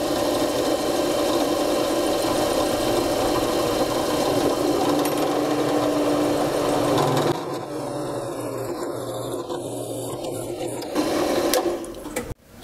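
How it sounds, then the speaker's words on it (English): A centering drill bores holes in parts for a tall art clock. The machine whirs steadily and loudly for several seconds, then the tone shifts and thins before cutting off abruptly at the end. "So first step is to drill these holes. So I'm starting with a centering drill."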